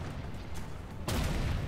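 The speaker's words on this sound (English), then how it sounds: "Gonna fire again." Object 640 Black Eagle tank main gun fires in a video game, one sudden heavy boom about two-thirds of the way in, loud and broadband, lingering as a dense rumbling tail over steady low battle noise.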